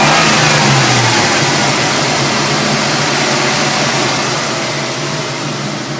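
Engine of a 1949 Plymouth running loud and close, rising briefly as the throttle is touched and then settling into a fairly steady, slightly fading drone.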